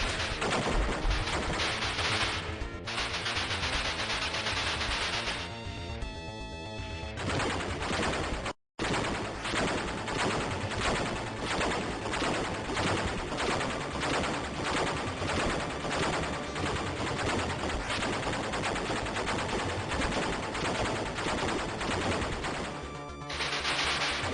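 Continuous rapid gunfire from the Batman: Revenge of The Joker video game, fired at bombs and at the Joker, rattling steadily under a loud chiptune soundtrack with no voices and one brief dropout.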